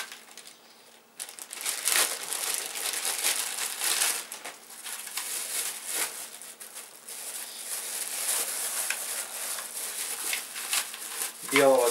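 Plastic packaging crinkles and crumples up close as a parcel holding a white Xbox 360-style wired gamepad for Windows is opened, with repeated loud rustling bursts and handling noise.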